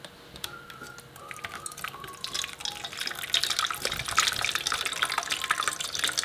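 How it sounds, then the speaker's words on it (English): Hot water pouring over waxed apples in a kitchen food-science test, a steady close splashing trickle with a few drips that grows louder and fuller after the first few seconds. "So I guess if we pour some hot water on top of this, the wax is going to come off"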